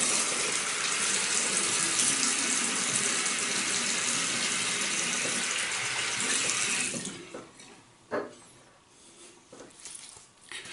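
Tap water runs steadily into a sink as a face is rinsed during a wet shave, a loud continuous gush for about seven seconds that then cuts off, leaving faint splashes and drips.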